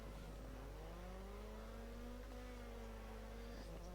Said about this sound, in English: He's able to keep the high revs,